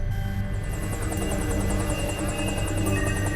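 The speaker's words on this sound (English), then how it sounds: "Teton County Search and Rescue heli specialist John Weedy scouts from the chopper" Search and rescue helicopter in the backcountry, a steady close rotor drone with a rapid rhythmic high chop and constant engine hum throughout.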